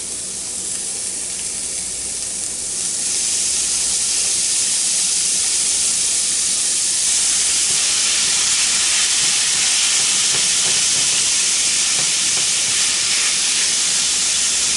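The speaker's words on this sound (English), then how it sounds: "we're going to put the hamburger and cook the hamburger" Hamburger meat sizzles in a pan while being broken up for old-fashioned sloppy joes, giving a loud, continuous frying hiss that swells after a few seconds and stays steady.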